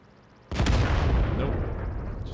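A single heavy artillery blast in World of Tanks booms suddenly and loud, followed by a long rumbling roll of explosion noise that fades slowly.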